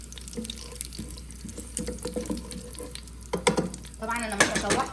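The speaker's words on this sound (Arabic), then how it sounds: "ننزل بيه كده كده البصل والثوم يا بنات، نغلفهم كده بمعلقه الزبده تشوح" Onion and garlic sauté in butter and oil in a pan with a soft, close sizzle, broken by scraping and stirring clatter from a spoon. The sizzle swells toward the end.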